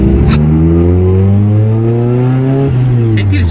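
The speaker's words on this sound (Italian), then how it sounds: "Senti il suono com'è diverso con sta turbina" Turbocharged JDM Nissan engine, S14/S15 type, revs hard and climbs in pitch with a loud, rasping tone up close, then drops back briefly; a voice talks over it.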